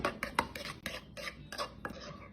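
Black pepper, salt, onion powder and garlic powder are stirred together in a bowl, a quick series of close, light scraping clinks from the utensil against the dish with no one talking.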